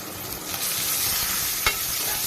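Ground masala paste and a large tomato fry together in a pan for Konkani-style cumin-coconut dal, a loud close hiss of sizzling with a brief stirring clack near the end.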